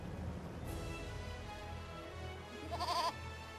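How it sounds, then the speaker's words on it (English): A goat in the Eternal Sonata video game bleats once, a short wavering cry over quiet game background music, with a fainter call earlier. "Yeah, it's a goat."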